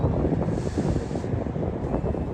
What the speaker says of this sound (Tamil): நல்லா காற்று வேறு அடிக்குதா